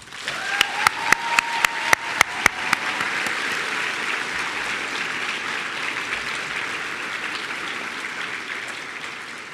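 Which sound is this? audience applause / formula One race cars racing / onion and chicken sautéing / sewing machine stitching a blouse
audience applause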